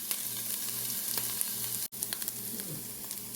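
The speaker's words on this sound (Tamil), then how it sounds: "வெங்காயம், கறிவேப்பிலை, பச்சை மிளகாய் சேர்ப்போம். வெங்காயத்தை வதங்க விடுவோம்." Onion, curry leaves and green chilli sauté in hot oil after mustard and cumin seeds have popped, giving a steady close sizzle with light crackles and a brief drop-out midway.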